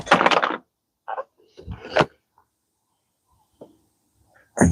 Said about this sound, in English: just push my window open on my own house